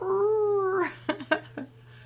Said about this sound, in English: Wow, there's a dog outside howling. It sounds like a hound dog, like a basset hound.